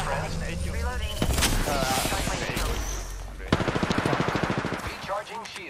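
Gunfire during a ranked battle royale match: rapid automatic bursts rattle loud and close in two long strings with a short gap between them, while players talk over the shooting.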